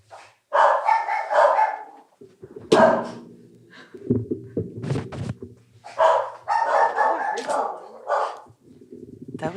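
Dogs bark inside a house, a few sharp barks and yips breaking in among people chatting nearby.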